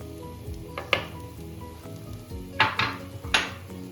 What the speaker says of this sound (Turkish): Şöyle 3 yemek kaşığı zeytinyağımızı ekliyorum.